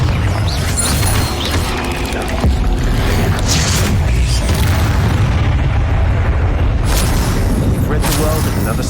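A Confringo fire spell explodes in the video game Hogwarts Legacy, with booming blasts inside a dense, continuous wall of loud combat noise that lasts the whole stretch.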